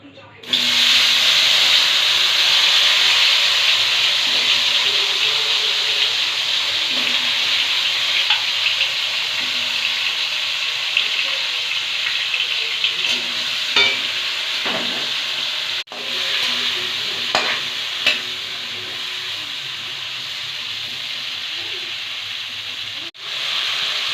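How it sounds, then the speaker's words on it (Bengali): Okra (bhindi) hissing in hot oil in a pan, a loud, steady sizzle that runs continuously with occasional small knocks and stirring scrapes. "তেল গরম হয়ে গেছে, এবার ভেন্ডিগুলো আমি দিয়ে দিচ্ছি।"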